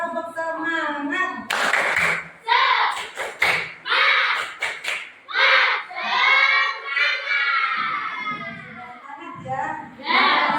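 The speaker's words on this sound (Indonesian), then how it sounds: "Tepuk semangat." Class of schoolchildren doing a rhythmic spirit clap, quick bursts of claps mixed with children chanting loudly together, close and lively with an adult voice leading.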